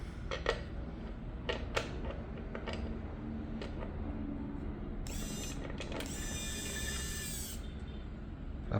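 A screw being driven into a Sanwa YX 361 TR multimeter case makes a close, high mechanical whirring in two long bursts, after scattered small clicks and plastic taps over faint background noise.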